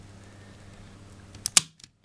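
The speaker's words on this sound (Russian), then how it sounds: "Автомат отключился. И выскочила кнопка возврата." An RN47 shunt release trips a circuit breaker: a faint hum, then two sharp close mechanical clacks in quick succession and a small final click, with no talking.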